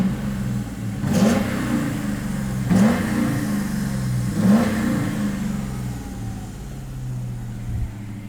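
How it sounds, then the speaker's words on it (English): A built 5.0 Ford Mustang V8 revs three times in quick succession, each throttle blip rising sharply and then settling back to a steady, fairly loud idle, with no talking. "Let me try to give it some gas."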